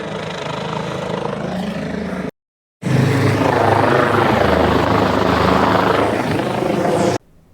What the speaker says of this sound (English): Here's the very brief footage I do have of the helicopter.